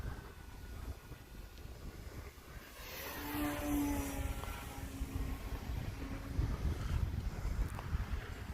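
A Timber RC plane drifts slowly past on a windy day, its small electric motor a faint rising-and-falling whine around midway, heard over steady wind rumble on the microphone.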